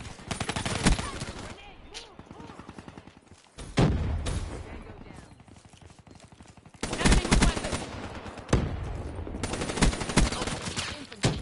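Cuda gun fire in Black Ops 3 sounds as loud rapid automatic bursts in several clusters with brief pauses between them, and a voice talks over part of the shooting.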